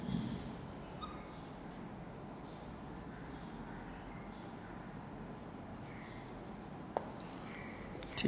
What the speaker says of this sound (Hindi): मैं लिख भी देता हूँ इधर